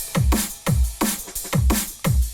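Programmed drum beat without a sampled break: deep booming kicks with a falling pitch alternate with crisp snare hits in a steady loop of about four beats, loud and dry with no voices.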